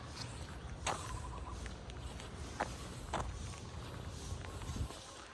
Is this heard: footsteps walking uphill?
yes